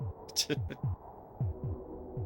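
A steady, low thumping heartbeat from the SNES game Populous pulses in repeated double beats beneath a soft hum, with a brief high chirp near the start.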